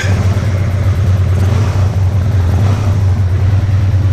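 A Honda Interceptor motorcycle engine idling steadily after its fuel is turned on, a continuous low droning hum close by with no talk.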